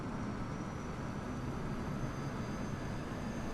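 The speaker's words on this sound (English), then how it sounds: "So that's the sound of the APU." Auxiliary power unit of an airliner running in Microsoft Flight Simulator, heard from outside the aircraft on a Melbourne to Sydney flight: a steady, loud broadband roar with a faint high whine, constant throughout.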